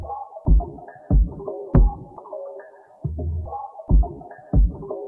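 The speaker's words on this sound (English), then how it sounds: "Then I've got this drum loop from Vikas that I had to pitch around a lot." A drum loop pitched up 600 and 800 cents thumps in a dark, uneven pattern. Punchy low hits alternate with a thin, raised-pitch tonal layer, played alone and fairly loud.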